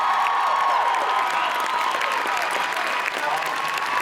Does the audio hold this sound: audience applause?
yes